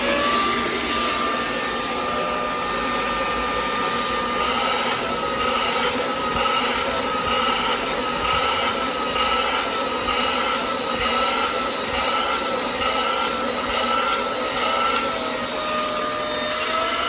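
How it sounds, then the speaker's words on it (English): A Hoover vacuum cleaner with no attachments, run along its straight edge over an antique seat pulled from the trash, drones steadily and loudly for the whole stretch with a shifting whine, and nobody talks. "I'm going to try to my Hoover to try to clean it up"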